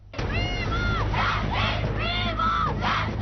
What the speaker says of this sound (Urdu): کاراکورم انٹرنیشنل یونیورسٹی کے ہنزا کیمپس کے باہر حکومت اور انتظامیہ کے خلاف نعرے بازی کرتے یہ ہیں اسی یونیورسٹی کے طالب علم